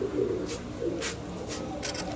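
Pigeons coo softly and steadily close by, a low, throaty burbling that carries on without pause and with no voices.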